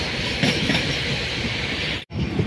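A train rolls through Kőbánya-Kispest station in Budapest, a loud, steady rumble of wheels and carriages close by with a brief sharp dropout near the end before the roar resumes.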